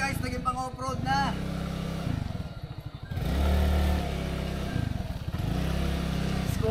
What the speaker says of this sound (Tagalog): Yung motor kong crossover guys, naging pang off-road na.